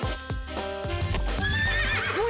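A horse neighs loudly near the end of a short Playmobil horse stable toy advert, preceded by clip-clopping hooves and backed by bright music, with no talk over it.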